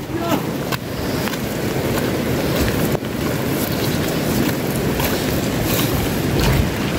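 A rain-swollen river rushes by in a steady, loud roar, with rain falling and wind buffeting the microphone, and a voice speaking briefly over it.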